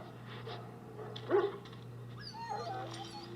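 Injured, very ill dog in the video game Dragon Age: Origins gives a few soft whimpers and yips over a steady low hum of game ambience, with one louder whine in the middle.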